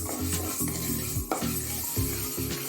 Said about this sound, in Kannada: ನಿಧಾನಕ್ಕೆ ಫ್ರೈ ಆಗಬೇಕು ಅದು.